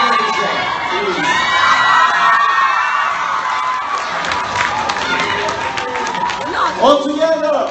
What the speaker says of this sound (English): One big scream for the Jibcon!